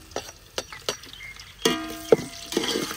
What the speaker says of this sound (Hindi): प्याज को ब्राउन होने तक फ्राई कर लेंगे।